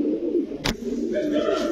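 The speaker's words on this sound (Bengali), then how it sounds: "দর্শক কবুতর দেখেন জাঞ্জি বানায় লাইছে উড়াইতে না।" Domestic pigeons, including fancy breeds such as racers, Budapest, Golakasha and Lahori, coo in a low, continuous murmur close by, with a brief sharp rustle partway through.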